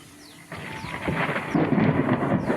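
Thunder rolls and cracks through a storm, a loud broadband rumble swelling from about half a second and growing heavier toward the end, with no voices.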